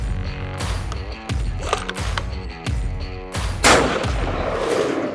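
Rifle firing 88 grain bullets seated backwards in the cartridge, several sharp reports in succession at a steady pace, each with a quick decay and some mechanical clatter between shots.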